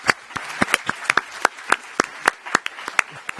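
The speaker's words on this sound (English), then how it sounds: "the applause shows how much affection you enjoy from the press" Sparse, uneven clapping from a small press conference audience after remarks by European leaders, a steady run of separate sharp claps rather than a full ovation, close and moderately loud with no talking.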